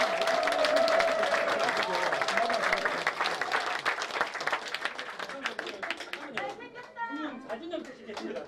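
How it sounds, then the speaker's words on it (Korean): Audience applause and cheering at an election ballot-counting room after a winner is confirmed, loud sustained clapping from a crowd that tapers off into chatter and voices talking near the end. "감사한 뜻으로 박수 한번"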